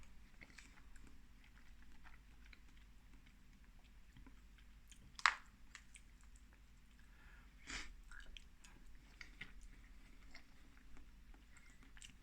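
Quiet, close chewing and mouth sounds of someone eating Pot Noodle brand creamy carbonara pot pasta, soft and intermittent with one sharper bite or snort midway, no talking.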